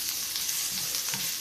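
Chopped onion fries in a pan alongside mushrooms for a chicken and mushroom risotto: a brief, dense, close-up sizzle with a couple of faint stirring bumps and no voices.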